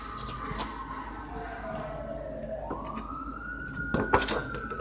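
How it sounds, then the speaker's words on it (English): A wailing siren glides down and then rises again, heard at a moderate distance with some clattering knocks in the background. "Remember, when you hear that siren,"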